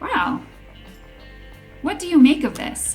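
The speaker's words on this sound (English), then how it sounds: "That was my dog, enjoying the sun, eating some peanut butter." A dog makes short whimpering, yipping vocal sounds outdoors in the sun while eating peanut butter, a soft cry at the start and a louder burst of whines near the end, with a person speaking briefly.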